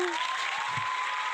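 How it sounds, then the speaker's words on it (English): Brief applause and cheering from a crowd at a dog dancing show, a steady wash of clapping with a thin tone running underneath and no clear speech. "Round of applause for Tango Sour."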